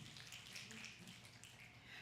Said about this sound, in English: This is a snapping crowd, and I like it.